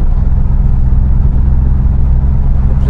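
A V6 car engine pulls smoothly at low revs, a loud, steady, deep rumble heard from inside the car without talk.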